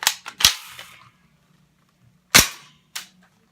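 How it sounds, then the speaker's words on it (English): An airsoft gun fires into an indoor wall, a quick burst of three sharp snapping shots, a pause, then two more close, crisp pops. "I just shot the wall."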